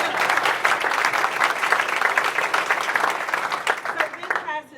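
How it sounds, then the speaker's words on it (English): An audience claps at a commerce address on investment in North Carolina, a dense burst of applause that holds strong, then thins and fades out at the end. "I was expecting a clap with that."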